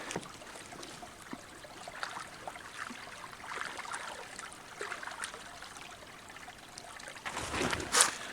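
A mountain stream on a Bear Mountain, Connecticut hiking trail trickles and burbles softly and continuously, faint and close, with a brief louder splash near the end.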